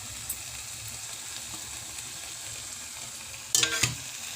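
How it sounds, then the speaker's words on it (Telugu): Chopped tomato pieces go into a pan of frying chicken curry. A steady, low sizzle runs throughout, then a short, louder crackling burst comes near the end as the tomatoes hit the hot oil. "ఇప్పుడు ఇందులో మనము చిన్న చిన్నగా చాప్ చేసుకున్న టొమాటో ముక్కల్ని వేసుకుందాం."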